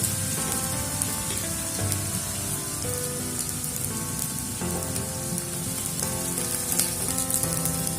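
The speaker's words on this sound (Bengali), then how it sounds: "গাজর আর ডিম আমি ভেজে নেব আর এর মধ্যে ক্যাপসিকামটাও একবারে অ্যাড করে দিচ্ছি" Eggs, carrots and capsicum fry in a pan for chicken pasta, giving a steady, loud sizzle and crackle with faint clinks, no talking over it.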